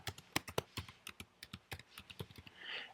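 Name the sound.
typing on a computer keyboard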